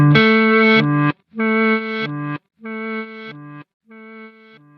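Guitar run through a reverse delay effect on a Quad Cortex, four swelling chord phrases that fade in backwards and cut off abruptly, each one quieter than the last, with short silences between.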